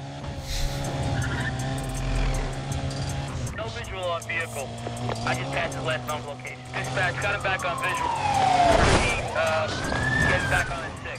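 Need for Speed Undercover car sounds: engines roar and tires squeal through a police chase, ending in a loud crash-like burst as a police car is wrecked, with a voice talking over it.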